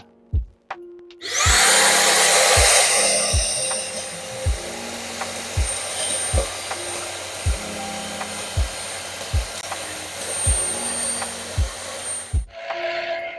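A cordless LG CordZero A9T-Ultra stick vacuum whirs steadily for about eleven seconds, its broad hiss starting abruptly and cutting off near the end, with regular low thuds pulsing underneath roughly once a second.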